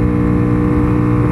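A Honda Pop 120 motorcycle riding slowly in heavy traffic, its small engine droning steadily and loudly close by, no voices.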